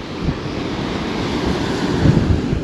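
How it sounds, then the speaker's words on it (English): Sea waves breaking on a shingle shore at Tunstall on the East Coast, a loud, continuous wash with a surge building near the end, mixed with wind buffeting the microphone; no speech. "So the big wave comes in."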